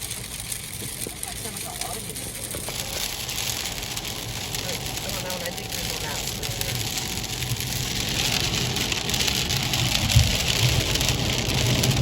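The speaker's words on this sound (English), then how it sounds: "That's very rainy." Rain falls on a car during an Uber ride, a steady patter across the roof and windshield over the low hum of the engine, with people talking inside the cabin at times.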